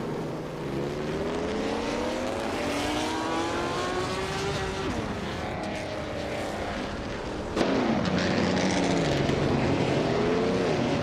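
Engine drone from a 1952 Ferrari 375 Indy race car racing, a steady rising and falling mechanical whine with pitch sweeps as cars pass, continuous and fairly loud with no talk.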